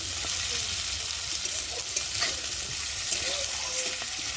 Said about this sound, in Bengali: একটু সময় ধরে আলুটা একটু ভেজে নেব।